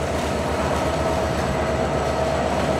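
The Silk City Express train at a station in Bangladesh rumbles steadily nearby, a constant low roar with a faint mechanical hum and no pauses.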